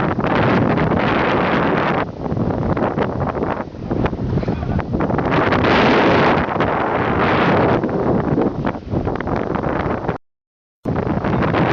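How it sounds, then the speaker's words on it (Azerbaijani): Strong wind roars and buffets the microphone on a small boat crossing between islands on a fishing trip, with rough waves. Loud, continuous gusts swell and ease throughout. "Biraz külək var, dalğa var."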